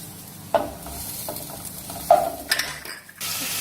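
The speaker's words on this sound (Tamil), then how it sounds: "அடுத்தது நம்ம இந்த கொத்தவரங்காய் வேக வச்சது இருக்கு இல்லையா, அதையும் பாருங்க இதுல கொட்டிடணும்" Boiled cluster beans tipped into a hot frying pan and stirred, with a few sharp clattering hits and scrapes of a spoon over a soft, steady sizzle.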